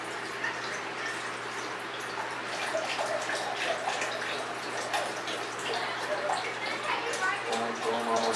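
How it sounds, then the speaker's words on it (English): Vegetable stock pours into a pot for a lobster stock, a steady splashing liquid flow running throughout at moderate level. "And your vegetable stock, 2 cups."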